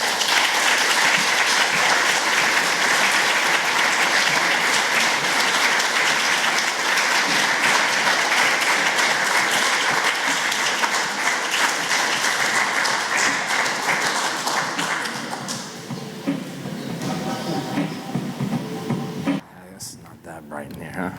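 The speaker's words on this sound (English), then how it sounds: "please join me in giving a warm welcome to Abigail LePage and her interviewer, William Baker." Sustained audience applause welcoming a speaker and her interviewer onto a stage at a talk, loud and dense at first, then thinning out toward the end.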